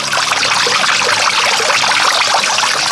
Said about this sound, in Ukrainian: насолоджуватись звуками потічка